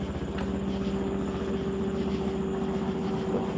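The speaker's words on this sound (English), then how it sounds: "We got a helicopter up here?" A helicopter drones steadily overhead, its rotor thumping continuously at even volume throughout.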